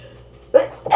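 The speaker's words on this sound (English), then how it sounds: "So while I sneeze away" A person sneezes indoors, reacting to freshly put-down cat litter stirred up by a cat; two sharp bursts sound close and loud, the first clipped short and the second following moments later after a quiet stretch.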